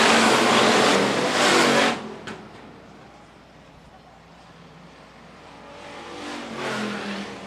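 Hobby stock race cars roar past on a dirt oval track in a short-track main event, a loud engine sweep that fades then rises again as more cars approach, with a race announcer talking over it.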